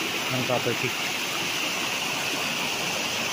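A spring-fed stream flows steadily on a hillside farm lot in Lucban, Quezon, a constant soft rush of water heard alone at a moderate distance.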